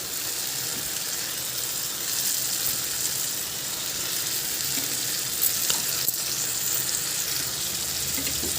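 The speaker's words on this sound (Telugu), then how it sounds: "చేపలను కూడా బాగా ఫ్రై చేసుకోవాలి." Fish pieces frying in hot oil with tomato for a fish curry, a steady close sizzle and crackle throughout with a few brief sharper pops near the end, no voices.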